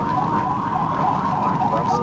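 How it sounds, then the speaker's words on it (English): A police car siren wails steadily during a high-speed pursuit, a loud continuous tone over engine and road noise, with a voice talking underneath. "Siren"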